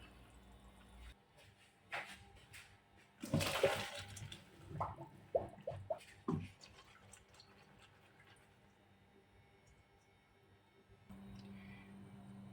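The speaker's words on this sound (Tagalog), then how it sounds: "pwede nating salain at itapon ang tubig para i-proceed natin sa ating pagluluto." Boiled water drained off chicken hearts through a strainer while cooking a chicken heart and mixed vegetable dish, heard as a few splashing, gurgling bursts in the middle followed by drips and quieter handling sounds, with no talking.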